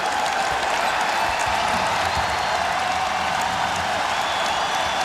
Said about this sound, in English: Listen at this Laker crowd.